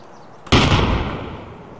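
Grenade blast in Escape from Tarkov, a sudden loud boom that hits after a short quiet lead-in, then a long rumbling decay with a scattered crackling tail.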